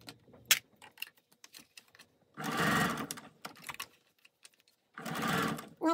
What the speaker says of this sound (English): I'm going to roll back stitch a little bit, and then I'll continue sewing.